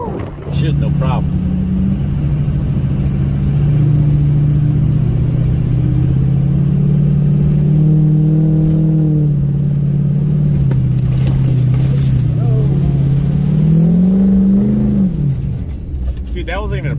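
An off-road vehicle's engine drones and revs hard while climbing through a snowy mountain trail in a blizzard, a loud sustained low rumble with rising pitch near the end, and people talk excitedly over it.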